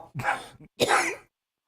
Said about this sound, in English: I don't know what the hell he's barking at